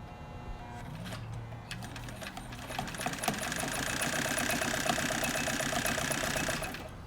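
A 1963 Kenmore 158.904 sewing machine sews a long, wide zigzag stitch, its needle chattering in a rapid, steady mechanical rhythm that speeds up slightly midway. The sound is close, with no talk.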